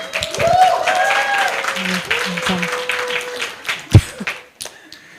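An audience at a church teachers' seminar gives a steady round of applause, sustained and moderately loud, with voices and a few scattered sounds over it before it fades out.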